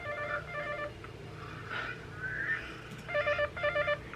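A Steam Controller locator alarm sounds as repeated bursts of electronic beeping tones in groups, like a phone ringing, with quiet background hiss and a gliding tone between the bursts.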